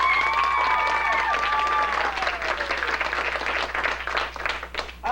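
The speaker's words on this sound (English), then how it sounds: "Let's have a round of applause." A convention crowd at a 1998 fan event bursts into loud applause for a costume contestant, clapping and a few cheers mixed with overlapping voices, thinning slightly toward the end.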